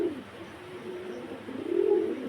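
Domestic pigeons coo softly and steadily, a low throaty purr that swells louder near the end, with no talk over it.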